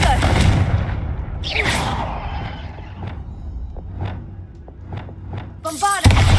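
Confringo fire spell blasts in Hogwarts Legacy: a loud rumbling game mix with a whooshing cast, then several sharp, evenly spaced bursts and a heavy blast at the end.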